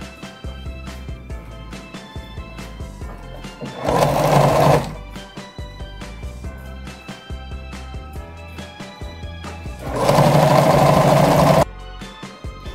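Sewing machine stitching the hem of a hooded baby towel, rattling in a steady rhythmic chatter in between, with two louder, fast bursts of stitching lasting about a second each, close by.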